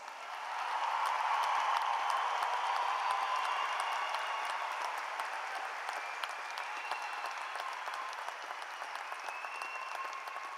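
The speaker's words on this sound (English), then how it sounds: "Please give these students one more round of applause." Sustained applause from a large audience at a 2019 high school graduation ceremony, honoring graduating students; steady, dense clapping at moderate distance that holds evenly for about ten seconds without voices.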